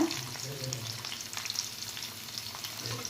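Cumin seeds, slit green chilies and a medium onion fry in oil for tomato rice, a close, continuous sizzle with light stirring scrapes and no talking.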